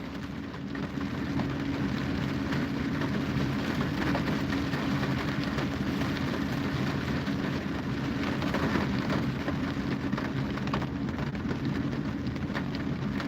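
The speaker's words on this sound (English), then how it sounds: "It's starting to rain." A steady, dense hiss of rain falling outdoors carries a low rumble of thunder underneath. It stays constant and fairly loud throughout, with no voices.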